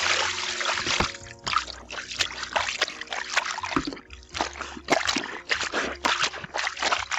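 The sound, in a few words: water added to bed sheets soaking in a basin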